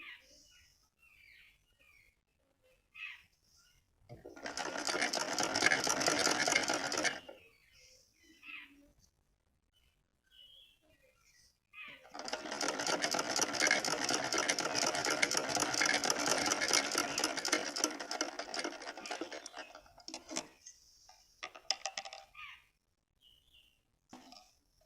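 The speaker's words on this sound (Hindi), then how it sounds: "देखो ये स्टिचिंग हो रही है" A sewing machine stitches the sleeves of a small full-sleeve winter outfit for a Laddu Gopal idol, running in two steady bursts of close, dense mechanical whirring separated by quiet pauses with faint background sounds.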